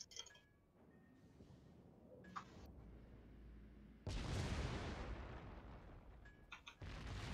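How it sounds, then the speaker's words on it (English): Warship main guns in World of Warships fire during a clan battle, a heavy booming salvo that erupts and rumbles loudly, followed by a second blast near the end, with faint clinks and game sounds before it. "Concentrate fire on the enemy warship."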